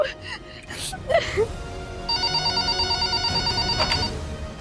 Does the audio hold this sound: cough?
no